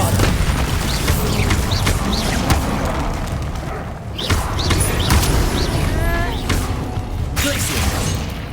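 A Bombarda spell explosion in Hogwarts Legacy, fought against centaurs, lands as a dense, loud blast and rumble inside continuous battle noise, with a voice calling out over it.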